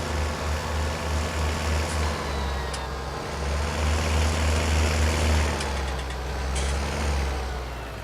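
A 140-horsepower tractor engine driving in Farming Simulator 19, a loud, steady low diesel drone with a pulsing rumble and faint mechanical whine on top, continuous with no talking.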